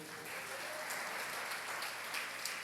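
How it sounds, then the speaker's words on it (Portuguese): A church congregation claps together in a dense, even patter that holds steady throughout, fairly faint and with no voices over it. "Aplauda o Senhor."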